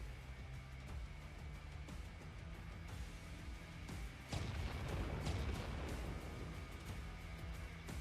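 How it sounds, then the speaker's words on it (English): A giant explosion in the video game Clair Obscur: Expedition 33 bursts in with a sudden loud, deep rumbling blast about halfway through, over a steady game ambience and music, then keeps roaring and crackling to the end. "based off of the giant explosion"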